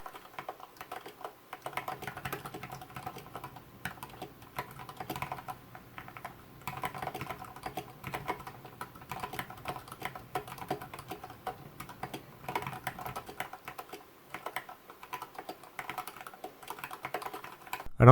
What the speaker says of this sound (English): Here's a typing demonstration with this configuration.